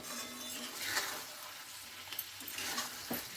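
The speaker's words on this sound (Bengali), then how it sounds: "তো এবার কষাতে কষাতে আমি এবার দিয়ে দিলাম গরম মশলা, গুঁড়ো গরম মশলা দিয়ে দিলাম।" Chicken gravy is stir-fried with ground garam masala, making a soft continuous sizzle with scraping stirs and a few light clinks, quiet and close.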